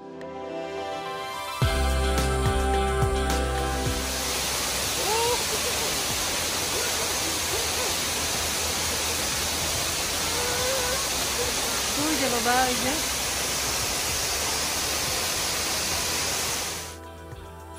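A South Korean mountain waterfall roars as a steady, broad rush of falling water that fills the space from start to end. Faint voices or birdlike calls come through in the middle.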